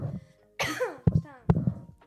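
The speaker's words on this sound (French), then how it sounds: "le soir, je tousse beaucoup avec les allergies" Two sharp, close coughs break up a woman's speech, each a short harsh burst between her words.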